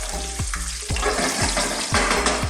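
Mustard, fennel, cumin and coriander seeds crackle and pop in hot oil for an eggplant and chicken curry, a steady close sizzle broken by sharp repeated snaps every half second or so.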